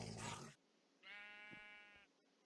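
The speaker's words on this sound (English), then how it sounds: "So, bat sheep has the wolf angry because the wolf can't get to it" A sheep in Minecraft lets out one bleat with a clear harmonic tone, after a short burst of other noise.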